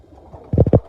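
Crossbred King and Pakistani pigeons give a short, low, throaty coo in three quick pulses, close by over faint background noise.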